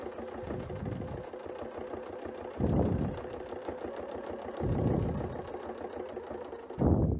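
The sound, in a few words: sewing machine stitching quilt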